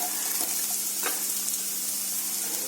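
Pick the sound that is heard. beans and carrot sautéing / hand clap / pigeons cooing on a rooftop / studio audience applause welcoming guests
beans and carrot sautéing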